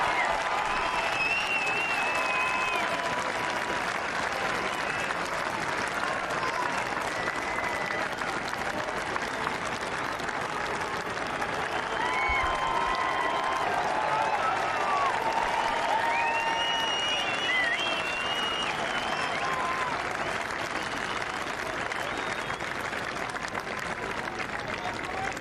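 A large golf gallery at the final round of the Amgen Irish Open applauds as players arrive, with sustained dense clapping and crowd noise, scattered cheers and whistles rising above it, steady throughout.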